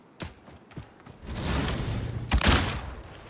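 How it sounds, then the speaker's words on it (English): Grenade blast in the Warzone battle royale game: a few muffled thumps lead into a rolling, broad explosion roar that swells, then peaks again with a second heavy boom near the end, loud and close. "Throwing grenade!"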